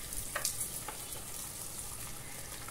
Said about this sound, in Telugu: గ్యాస్ మీడియంలో పెట్టి మధ్యలో కలుపుకుంటూ వేపుకోవాలి ఉల్లిపాయని